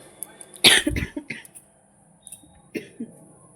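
A woman with a sore throat coughing hard in a home kitchen, one loud burst of several rough coughs followed by a couple of smaller ones, close up.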